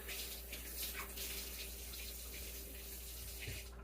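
Water runs steadily into a kitchen sink as canned kidney beans drain in a colander, a constant close hiss and splash with no talking.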